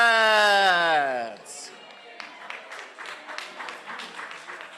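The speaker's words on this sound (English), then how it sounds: "I appreciate the round of applause" Scattered applause breaks out at a Democratic Party membership meeting, with a voice sounding first and then a spread of uneven hand claps from a modest crowd at moderate distance.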